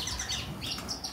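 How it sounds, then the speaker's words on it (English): Pet society finches and parakeets in an aviary chirp and tweet in overlapping, fairly faint bursts, a busy scatter of small bird calls. "we've got society finches in here"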